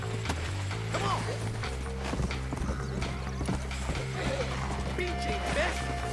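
Horse galloping in the Red Dead Redemption video game, steady hoofbeats under a continuous low droning game soundtrack, with occasional whinnies and a rider's voice over the action.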